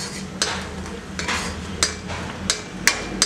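Cashews roasting in ghee in a pan, with a spoon stirring and clinking against the metal at close range every half second or so over a soft, steady frying hiss.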